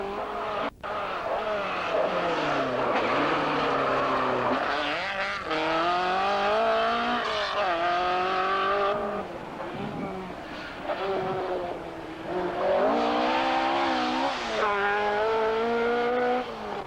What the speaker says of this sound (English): Wheels the rumbustious Porsche along the narrow roads